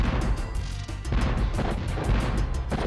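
A cannon fires repeatedly in the Spyro 2: Ripto's Rage video game, producing a rapid series of close, punchy booming blasts in quick rhythm.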